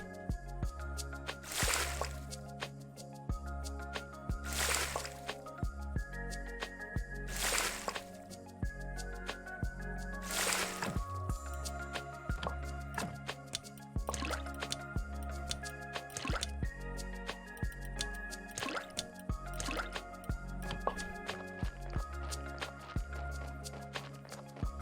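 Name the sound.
grabbing water in Graveyard Keeper video game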